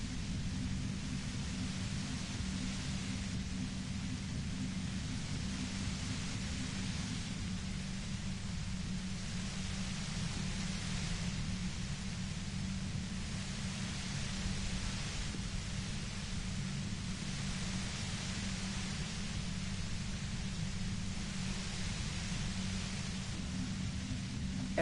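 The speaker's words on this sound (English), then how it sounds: "You hear through the white noise. It's especially bad suddenly." White noise static hisses in a PS4 video game, a steady broadband wash over a low rumbling bed that gently swells and fades in slow waves, moderately loud and alone, without speech.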